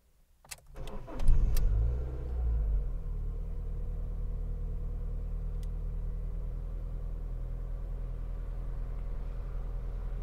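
A Fiat Punto HGT engine cranks and fires after a few clicks, surges briefly, then settles into a steady, moderately quiet idle rumble that runs to the end.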